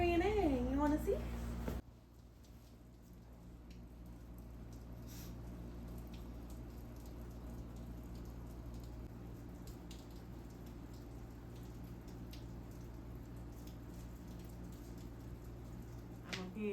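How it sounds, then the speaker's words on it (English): Rain falls in a steady, soft patter with faint scattered drops, running continuously after a brief burst of louder sound at the start. "It's raining."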